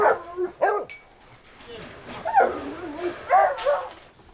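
Several dogs bark and yip in short bursts nearby, with a whimpering tone between barks and no talking, during flooding in Marche, Italy.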